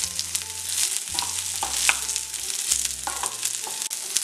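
Small pieces of broccoli with garlic sizzle and crackle in a hot pan while a utensil stirs and scrapes, with a hum underneath.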